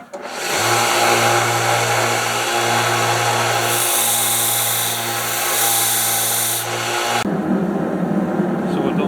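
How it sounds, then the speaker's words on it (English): A power grinder shapes and rounds the tip of a hand-forged oyster shucker made from a railroad spike, a loud, sustained close-up whine with rhythmic pulses that suddenly drops off near the end. "so we're going to be grinding this tip down, shaping it"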